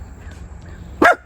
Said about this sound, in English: who are they barking at?